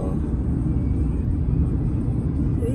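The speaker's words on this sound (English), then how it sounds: "there's a lot of traffic" Steady, dense road traffic rumble fills the air continuously, a low constant roar without distinct passing vehicles or voices.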